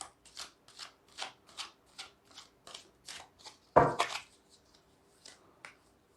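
Tarot cards shuffled by hand in a quiet room, a rapid series of soft riffling flicks followed by one sharper, louder riffle near the end, then quiet.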